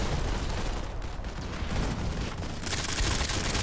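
Dense, continuous gunfire fills a Modern Combat 5 firefight, a loud, unbroken barrage of rapid shots and booming impacts with no pauses.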